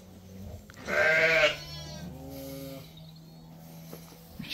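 Sheep and lambs on a farm bleat close by: one loud, wavering bleat, then several softer, lower calls, with no talking.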